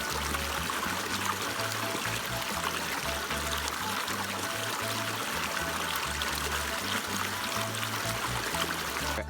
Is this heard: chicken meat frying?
no